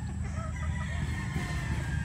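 Bulik gamefowl roosters crow at a farm amid dense, steady outdoor noise, the calls blending into a loud continuous background with no talk.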